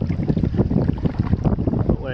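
Strong, shifting wind gusts buffet the microphone on a lake in the Boundary Waters Canoe Area in August during a solo canoe trip, a steady loud rushing roar filling the whole clip with no one speaking.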